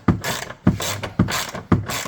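Ratchet wrench with a 16 mm socket loosening the upper nuts of a rear shock absorber on a 2014 Citroën C4 II, four close, evenly spaced bursts of clicking.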